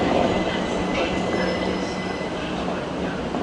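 A Class 377 electric multiple unit runs through Clapham Junction, a steady loud rumble of wheels on rail with a faint high whine and occasional squeal, continuous throughout.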